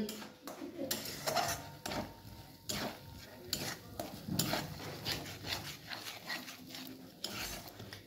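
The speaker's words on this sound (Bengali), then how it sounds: "এই জলটা না মরে যাওয়া পর্যন্ত এটাকে একটু নাড়তে থাকতে হবে আস্তে আস্তে।" Hyacinth bean mash (shim bhorta) stirred in a pan, the spoon scraping and clattering against the metal in a steady run of close, moderately loud strokes with faint background noise.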